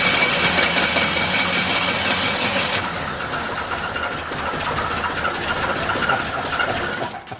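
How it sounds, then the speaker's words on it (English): A 1970 Pontiac Lemans engine cranks and sputters on starting fluid, a loud, continuous rough churning that fills the whole stretch without talk before it cuts off at the end. "let's just spin it, see if we get it to sputter at all"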